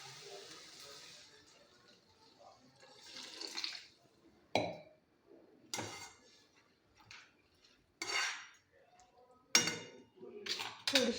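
Water is poured into a pan of sprouted moth beans with a little oil, giving several short splashing bursts and clinks with quiet gaps between them.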